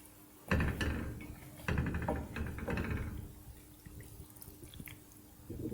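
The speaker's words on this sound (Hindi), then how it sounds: "अब हम इसमें डाल देंगे 6-7 टेबल स्पून पानी।" Spoonfuls of water go into a chicken karahi pan with onions and green chilies, each one making a sudden splashing hiss. Three or four bursts trail into quieter sizzling and clinks.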